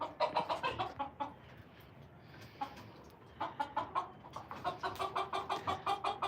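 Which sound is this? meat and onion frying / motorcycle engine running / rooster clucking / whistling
rooster clucking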